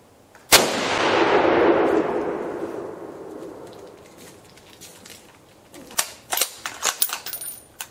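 A Ruger American .308 rifle fires once at a log about 30 to 40 yards away, a sharp loud crack with a long rolling echo, followed by faint outdoor clicks and rustling.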